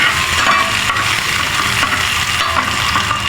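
Bitter gourd (ampalaya) with egg frying in a pan gives a loud, close, steady sizzle with faint stirring scrapes running underneath throughout.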